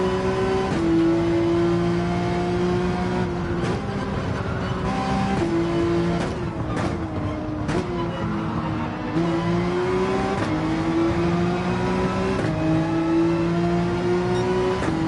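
A Porsche 911 race car engine in Gran Turismo 7 online racing, loud and continuous, revving up through the gears with repeated shifts and pitch drops, heard alone without talk.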